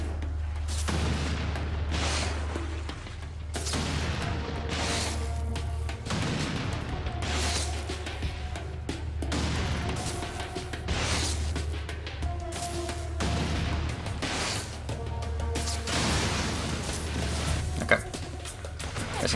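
Grenades burst repeatedly in the video game Infamous 2, a long run of loud, booming blasts arriving every second or two over a continuous low rumble, with no one talking.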